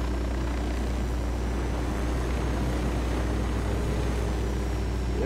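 Helicopter rotor and engine noise from the video game Ghost Recon Wildlands, a steady loud drone that holds without a break throughout, with no talk over it.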